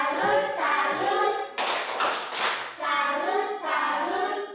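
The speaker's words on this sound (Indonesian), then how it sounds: "Oke, tepuk salut dulu untuk kelompok 2." A class of students does a chanted clapping cheer for a student group, voices chanting in rhythm with a burst of brisk handclaps in the middle, all close and loud in a classroom.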